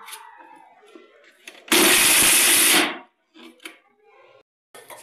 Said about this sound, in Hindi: ये देखिए हम इसे थोड़ा मिक्सी में ग्राइंड कर लेंगे ताकि थोड़ा ये और बारीक हो जाए।